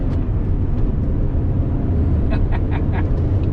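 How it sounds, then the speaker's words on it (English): A 2004 Saab 9-3 convertible with a boosting turbo engine pulls hard in second gear, a steady loud engine drone from inside the car with a few brief higher whistles near the end. "Here we go. Second gear pull."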